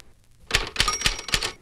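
Typewriter keys struck during touch typing practice: after a brief quiet lead-in, five or six crisp, close clacks land at an even, deliberate pace, with faint mechanical rattle between strikes.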